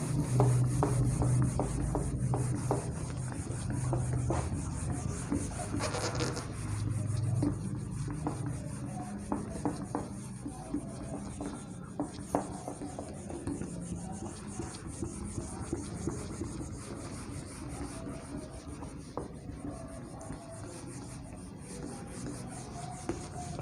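Writing gets rubbed off a board with a duster in a study lesson: soft, continuous scrubbing strokes, close and fairly faint, repeating steadily for about twenty seconds.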